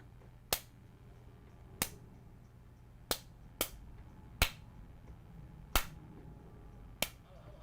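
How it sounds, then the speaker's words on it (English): Recorded hand claps played back on an MPC Live 3 sampler: seven sharp, isolated claps at uneven intervals, crisp and close over a low steady hum. "record some claps"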